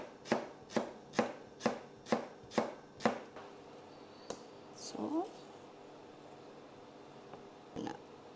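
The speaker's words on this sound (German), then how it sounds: "Und schneide ich ganz so dünn." Lemongrass sliced thinly with a knife on a board: seven quick, evenly spaced chops, close and crisp, then a pause with a faint squishy scrape and one last soft knock.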